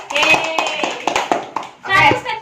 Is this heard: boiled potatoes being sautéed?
no